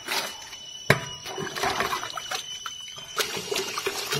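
Running water splashes and trickles at home while things are being washed by hand, with irregular sloshing and clinks close by and no talk.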